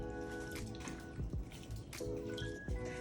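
Water drips and splashes in quick irregular bursts while sea moss is rinsed in a bowl, close and alone.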